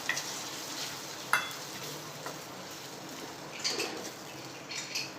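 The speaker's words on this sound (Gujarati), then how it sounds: "ટામેટા મિક્સ કરી લઈશું" Tomato puree is stirred into sautéed garlic and oil in a hot pan while cooking a Gujarati peanut-bhujia curry. It makes a soft, steady sizzle, broken by a few sharp scrapes and clinks of the spoon against the pan.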